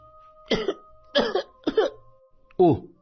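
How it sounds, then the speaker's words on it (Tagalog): A child coughs four times in short, separated bursts, close and fairly loud, over a faint steady background tone. "Inuubo ka, anak?"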